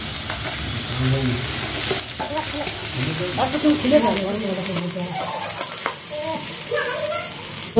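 Chopped onion sizzles and crackles in a hot pan, a steady frying hiss with occasional stirring scrapes, while someone talks quietly in the background.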